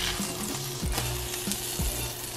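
Pancake batter frying in a pan, a steady loud sizzle with a couple of soft thumps as pancakes are flipped, close up and without talk.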